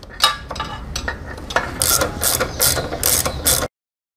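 A ratchet wrench tightens a bolt on a Royal Enfield Classic 350 gear lever, with repeated close, crisp ratcheting bursts in an uneven rhythm, then an abrupt stop.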